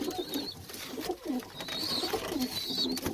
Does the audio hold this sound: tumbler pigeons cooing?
yes